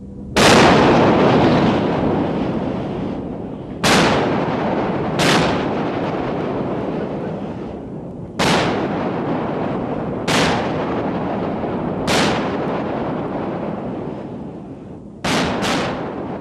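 Battleship 5-inch secondary guns firing in a series of about eight sharp, heavy reports at irregular intervals, some in quick pairs, each blast followed by a long rumbling decay, loud and with no talk.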